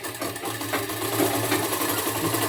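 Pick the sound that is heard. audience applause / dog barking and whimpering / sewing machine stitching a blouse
sewing machine stitching a blouse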